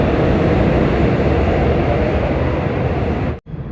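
Seoul metro train 3518 pulling away from Taepyeong station, a loud steady rumble and rolling roar filling the platform before a sudden brief dropout and resumption near the end.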